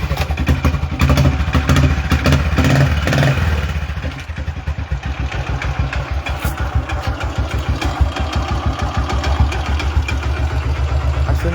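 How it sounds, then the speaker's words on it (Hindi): A Royal Enfield Bullet motorcycle engine idles close by with a steady, rapid thumping beat and some mechanical clatter. The first few seconds are louder and rougher before it settles. No one speaks. "जस्ट मैं वापस से मेरी बाइक को स्टार्ट करके आता हूँ"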